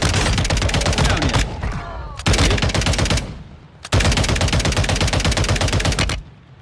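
Rapid automatic gunfire in the mobile shooter game Warzone Mobile, with three long, loud, continuous bursts separated by short gaps and no talk.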